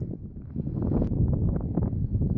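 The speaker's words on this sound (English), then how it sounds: "it's so windy" Strong coastal wind buffets the microphone at Goat Rock Beach, a loud, continuous low rumble with gusty swells and no voices.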